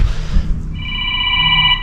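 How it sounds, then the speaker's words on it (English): A telephone rings with a clear electronic warble, starting loud and close after a brief muffled rustle and continuing steadily on its own. "And somebody's ringing me."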